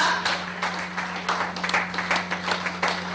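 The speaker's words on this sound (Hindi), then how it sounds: "जोरदार तालियां" Applause breaks out for an award winner at a company branch ceremony, a steady wash of many hands clapping with scattered sharper claps, moderately loud and without talk, over a constant low electrical hum.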